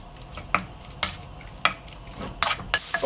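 Soft sizzling of chicken stir-frying in a hot stew pot with periodic scraping stirs, about once every half second, quiet and close, no talking.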